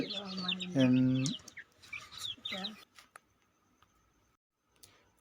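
A hen clucks and calls near a chicken coop, drawn-out and insistent at first, then gives a few short clucks and falls to a near-silent pause with a faint chirp.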